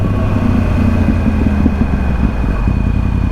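A 2013 Yamaha R1 sport motorcycle's exhaust note rumbles loud and close, a steady low engine drone with a pulsing mid-range growl throughout and no voices.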